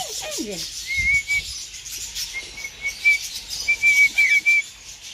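Thin, high whistled notes repeated in short bursts, with a brief sliding call at the start and some soft background noise.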